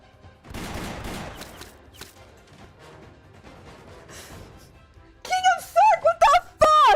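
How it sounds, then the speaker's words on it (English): Gunfire in the video game Arknights: after a stretch of muffled game sounds, sharp volleys of shots burst out loudly in rapid clusters near the end, with a voice speaking among them. "Let's make up for all the gunshots we haven't heard over the years."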